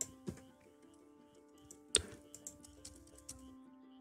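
Keys clack on a computer keyboard in a quiet room, a few sharp separate taps with gaps between them and a brief quick burst near the middle, faint and alone.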